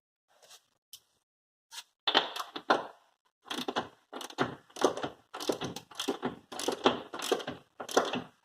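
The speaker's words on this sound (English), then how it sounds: "grab my other ratchet." A ratchet wrench works on a Mazda Miata subframe, giving quick bursts of close, sharp clicking in irregular clusters separated by short pauses.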